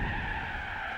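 Tires squeal in a sustained, loud skid as a car nearly spins out in Gran Turismo 4, the engine roaring steadily underneath without a break.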